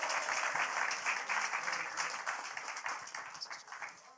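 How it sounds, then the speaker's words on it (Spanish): A church congregation at a Sunday service applauds with a dense, sustained burst of many hands clapping that gradually fades toward the end. "Un aplauso a Dios, hermanos."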